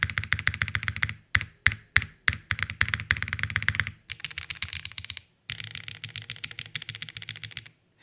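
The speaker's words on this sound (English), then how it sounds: "Spacebar's kind of, it's got a thick sound." Computer keyboard typing, close and alone: bursts of rapid key clicks with brief pauses, a heavier, thicker thump from the spacebar among the lighter keystrokes.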